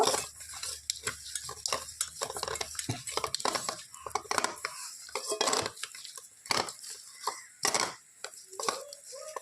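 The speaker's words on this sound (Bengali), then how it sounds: "নুন একদমই সামান্য পরিমাণে দিতে হবে হলুদ গুঁড়ো দিয়ে মাছটাকে একটু মেখে নেব" Raw katla fish being rubbed by hand with a little salt and turmeric powder in a metal dish, giving close, busy squelching and scraping with frequent clinks and knocks throughout.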